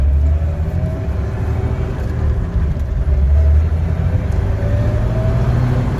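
A 2003 Jeep Wrangler Sahara with a 5-speed manual and 281,000 miles pulls away in first gear, a loud, steady engine drone with deep low rumble and continuous road and cabin noise, no talking.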